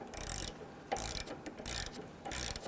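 A ratchet wrench tightens an 18mm nut on a sway bar end link of a 2008-2013 Infiniti G37, with four quick bursts of close, rapid clicking separated by brief pauses.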